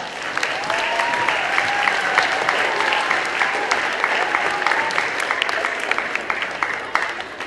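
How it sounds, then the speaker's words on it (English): Audience applause at a Veterans Day event for a state senator, a steady wash of many hands clapping that holds at an even level throughout, with some crowd noise mixed in. "let's give him a big round of applause."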